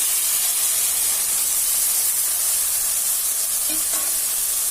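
Green peas being added to sizzling ginger garlic paste and stirred, a steady loud hiss of frying throughout with a faint knock or two of the spoon near the end.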